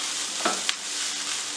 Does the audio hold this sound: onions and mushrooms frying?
yes